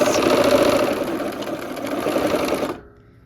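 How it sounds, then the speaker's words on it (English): A sewing machine stitches fabric strips for a Christmas ornament, a steady close whirring hum with a fast rattle that runs a few seconds and then stops abruptly. "Let's move that to the machine and sew those out."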